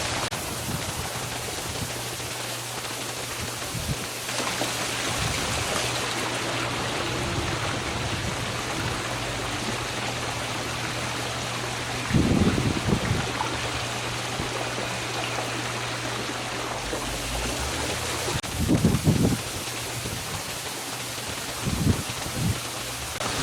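A pool pump runs after being switched on, pushing a steady, full rush of water over a constant low hum, with a few brief louder bumps partway through. No one speaks.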